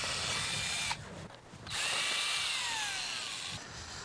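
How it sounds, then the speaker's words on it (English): A cordless drill with a number 2 Phillips bit backs screws out of a boat's rub rail, whirring loudly and close in two bursts separated by a short pause, its pitch sliding as it runs. "What I'm using here is a cordless drill and a number 2 Phillips bit."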